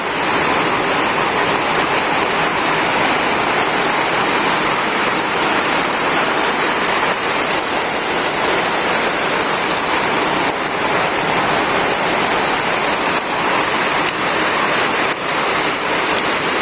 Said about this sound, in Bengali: হায় রে এত বৃষ্টি